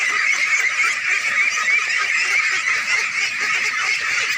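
A flock of ducks on an integrated village pond farm in Bangladesh quack and honk in a dense, continuous clamor while being fed, with no talking.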